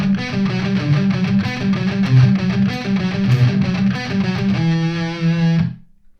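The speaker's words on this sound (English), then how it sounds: "We're just going to palm mute it down here, so it's going to sound like this now." Heavily distorted electric guitar chugs through the riff with palm-muted, tight repeated notes, closing on a sustained chord that cuts off abruptly; no voice present.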